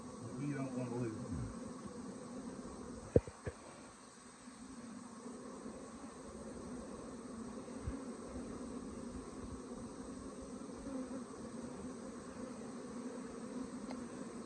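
A steady, low buzzing of many honeybees at a hive hums continuously, with a few brief clicks and knocks near the start.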